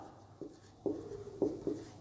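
A teacher writes on a board during a geography lesson: four short, scratchy strokes at an uneven pace, close and quiet, with no talking.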